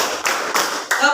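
Rhythmic hand clapping in a classroom, with three sharp claps at even intervals and a voice speaking between them.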